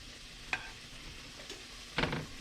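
Southern salmon patties frying in a pan, a quiet steady sizzle broken by a few brief scraping or stirring clicks near the stovetop.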